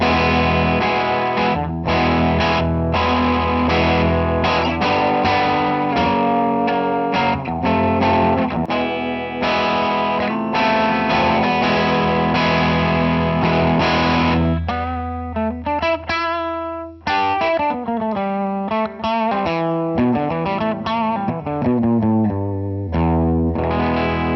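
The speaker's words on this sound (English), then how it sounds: "let's hear this modern Class A and keep our drive right in the middle" An electric guitar played through a Line 6 Flextone II amp on its Modern Class A model with drive at the middle setting rings out in sustained, slightly overdriven chords, then shifts to quicker picked single notes, loud and close with no talking.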